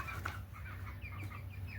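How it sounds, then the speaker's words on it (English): A chocolate Orpington rooster in a backyard flock with young pullets gives a few short, soft clucking calls up close over a low steady background hum, with no speech. "There's the chocolate Orpington rooster."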